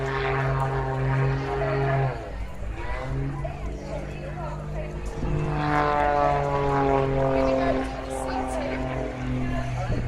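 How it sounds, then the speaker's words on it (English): A propeller plane's engine drones loudly overhead, its pitch rising and falling as it maneuvers, with voices talking over it. "You hear the roar from on that powerful engine."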